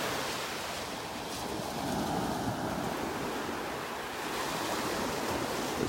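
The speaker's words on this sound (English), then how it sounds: "soothing sounds of the little waves breaking along the shoreline." Small waves break gently along the sandy shoreline of Delnor-Wiggins beach in North Naples, Florida, on a clear, calm morning, a soft continuous wash and fizz with no voices.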